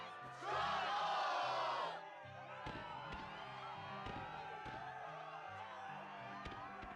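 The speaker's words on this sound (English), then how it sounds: "Yes, the crowd is fired up" A crowd in the video game Kingdom Hearts 2 roars and cheers in a loud burst lasting about a second and a half, then drops away to game music with rhythmic low beats.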